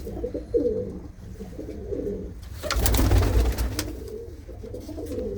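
Several pigeons in a breeding loft coo in soft, rolling phrases close by, while a louder burst of fluttering wings or rustling swells briefly in the middle.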